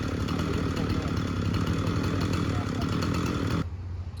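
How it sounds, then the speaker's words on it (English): A chainsaw runs steadily and loudly while finishing the cut behind felling wedges in a split, dangerous tree being felled outdoors, then cuts off abruptly near the end, leaving quieter background. "There's enough room between the tips of those wedges and the hinge wood to slip my saw in there and finish the cut."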